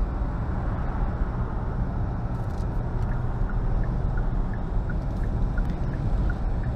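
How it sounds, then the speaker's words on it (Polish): Steady engine drone and road rumble fill the cabin of a Hyundai Tucson 265 hp plug-in hybrid while driving as its petrol combustion engine runs, constant and fairly loud with no talk. "Silnik spalinowy."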